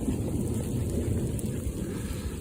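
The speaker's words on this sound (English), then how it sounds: "It's been raining for 15 minutes solid downpour." Dense, steady roar of heavy rain pounding down, a continuous wash of sound with no voices.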